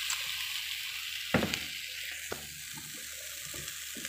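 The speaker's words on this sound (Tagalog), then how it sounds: "Gigisa ko siya sa patis" Beef sautéing in fish sauce for papaitan, a steady broadband sizzle close by with a few sharper pops and clatters of stirring, no talking.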